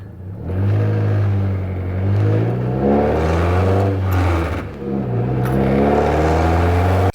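A loud, unmuffled car engine revs up and down repeatedly, close by, with a raw droning roar and no other sounds.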